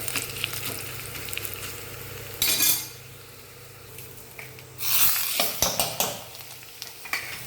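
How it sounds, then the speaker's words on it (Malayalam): Garlic and dried red chillies fry in hot oil in a pan for a Kannur-style dish, with bursts of loud sizzling, stirring, and the clink of a metal spoon against the pan. "ഗ്യാസ് ഓഫ് ചെയ്ത് എന്നിട്ട് ഉണക്കമുളക് ഇട്ട് കൊടുക്കും."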